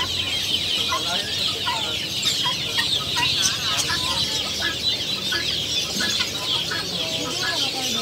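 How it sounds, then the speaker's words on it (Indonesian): A flock of chickens clucks continuously, with many overlapping short calls close by and a few sharper squawks throughout. "Kalau ayam begini mau kokorong apa? Kayak ayam biasa."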